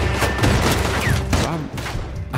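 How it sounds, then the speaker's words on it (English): A loud fusillade of overlapping gunshots and booms from the video game Red Dead Redemption II, rapid and chaotic, with faint voices underneath. "Who is shooting that? What is he shooting?"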